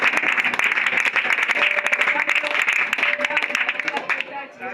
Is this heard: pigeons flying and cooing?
no